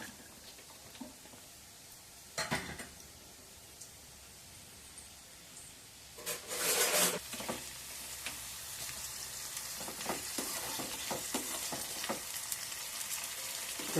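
Paneer frying until golden in a little oil in a kadai: a soft steady sizzle with occasional louder bursts and clinks as pieces are stirred and turned, no talking.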